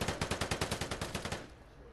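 Rapid automatic gunfire from an opponent in a video game: a burst of about a dozen sharp, evenly spaced shots fired in quick rhythm, loud and close, ending abruptly with a short fading tail.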